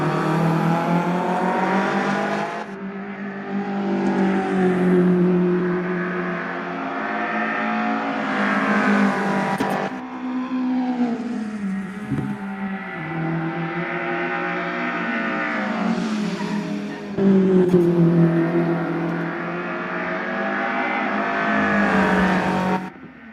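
British Touring Car Championship race cars, a Mercedes-Benz among them, scream past one after another with rising and falling engine notes, loud and close, gear changes and faint tyre squeal between passes.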